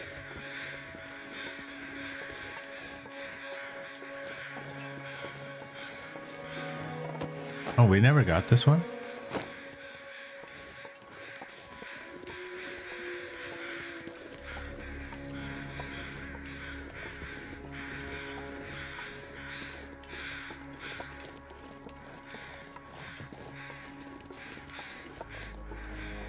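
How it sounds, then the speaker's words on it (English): Crows caw in the snowy wilderness of the survival game The Long Dark, with a cluster of loud harsh calls partway through over steady ambient wind, while someone talks briefly. "Crows are going wild."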